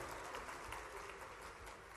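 Audience applause at a public development-works ceremony in Khargone, a steady dense wash of clapping from a crowd held at a constant moderate level throughout.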